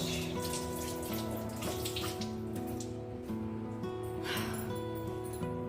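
Water runs from a household tap, turned down to a lower flow, in a steady splashing stream into a sink. Background tones and music run beneath it, with no clear talk.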